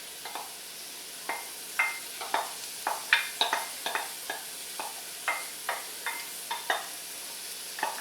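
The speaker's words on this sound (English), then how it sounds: "I hear it sizzling now." Onions sizzle in a pot amid repeated scraping stirs, irregular clatter over a soft constant frying hiss, close and moderately loud.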